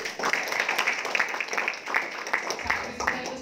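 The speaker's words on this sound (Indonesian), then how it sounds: "Tepuk tangan." An audience at a reseller training seminar bursts into applause, a steady wash of many hands clapping throughout, fairly loud and even, with a few overlapping voices beneath.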